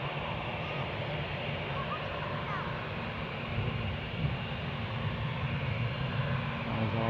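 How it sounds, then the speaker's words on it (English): A Boeing 787 Dreamliner at Newcastle airport gives off a steady, broad engine roar and rumble, distant but strong, holding level and swelling slightly toward the end, with no clear voices. "There's our Dreamliner"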